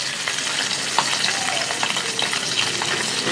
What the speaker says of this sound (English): And now I will fry the Elish carefully.